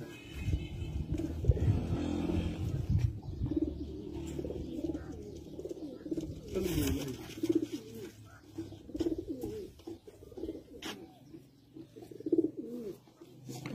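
Teddy flying pigeons cooing in soft, repeated low calls, fairly close, with some faint background noise around them.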